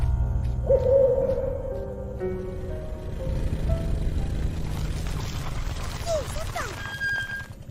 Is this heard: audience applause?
no